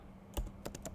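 A few soft, quick keystrokes on a computer keyboard while a project name is typed, close and quiet in an otherwise still room.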